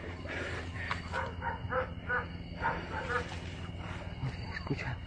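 Several dogs bark agitatedly at night on a rural property, giving repeated barks mixed with yips and whimpers at moderate distance over a constant low hum.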